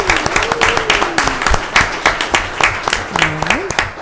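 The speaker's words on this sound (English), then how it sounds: "So let's give him a round of applause." A small crowd at a county commission meeting applauds, with uneven claps and a voice or two calling out over them.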